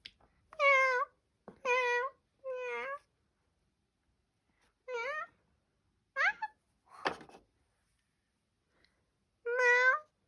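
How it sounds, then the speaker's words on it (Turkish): A kitten meows in short, clear, high cries close by, about seven of them spaced unevenly with quiet gaps between, plus a faint thump near the middle. "bu yavru kedi sadece uyanık"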